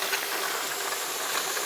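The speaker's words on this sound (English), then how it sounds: "We've got a steady stream of that steam coming up." Steady, continuous steam hiss from a pressure canner processing homemade chicken stock, even and unbroken at moderate loudness with no talk.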